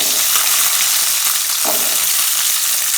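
Shallots sizzle steadily in sesame oil in a kadai, a dense continuous frying hiss held close and even throughout, with one brief scrape near the middle.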